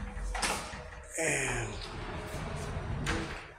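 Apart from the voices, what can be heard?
sliding wardrobe door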